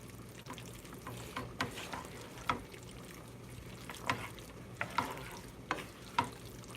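Meat, peppers, onions and garlic fry in a pan with a low steady sizzle, broken by several sharp clacks and scrapes of a utensil stirring the mixture.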